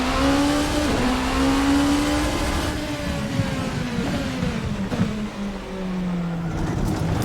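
A Rebellion R13 LMP prototype in Assetto Corsa at the Nürburgring GP, loud high-pitched engine revving and then pulling away, the tone rising and dropping through gear changes with no talk.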